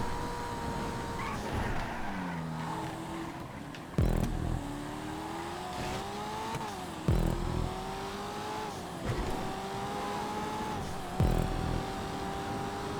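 Racing car engine in GTA 5 during a Coquette multi-class race, a steady loud roar that climbs in pitch through each gear, with several sharp thumps at the shifts and no talk.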